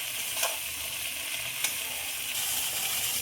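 Fried onions, potato, green chili, turmeric and salt stirred together in a pan, producing a continuous close sizzle with a couple of faint scraping stir knocks.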